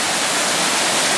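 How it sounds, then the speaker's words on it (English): Reservoir water diverted through a mountain gushes out of a pipe and pours down at a small falls near a Utah lake, a steady, loud, broadband rush heard up close with no voices. "here is the pipe where the reservoir water is diverted through the mountain. It comes out"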